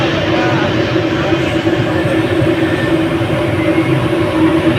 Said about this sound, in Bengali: ট্রেনটা